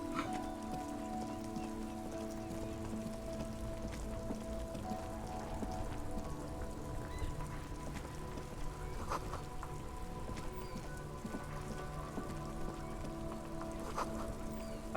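Steady rain in the video game Disco Elysium, a continuous patter of drops on surfaces over a low ambient hum, even and unbroken throughout with no talking.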